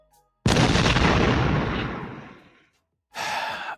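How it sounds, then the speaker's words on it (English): A bomb sound effect played on a talk show: a sudden loud broadband blast at about half a second that rumbles and fades over two seconds, followed by silence and a brief second burst of noise. "Drop my bomb real quick so I could get into the story."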